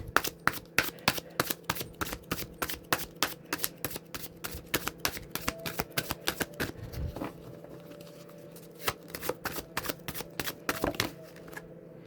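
Tarot cards being shuffled by hand, a close run of rapid, crisp riffling clicks and slaps that keeps pausing and restarting, with a faint hum underneath.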